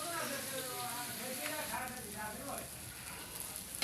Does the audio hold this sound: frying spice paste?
yes